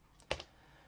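Ctrl, Shift and V are pressed together on a computer keyboard in ArcoLinux, giving one quiet, close cluster of two or three clicks in under a second.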